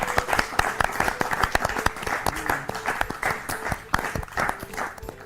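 Loud, dense applause from a studio audience on a Hindi kids' quiz show, many hands clapping at once in sharp, rapid bursts that run steadily throughout, with faint voices mixed underneath.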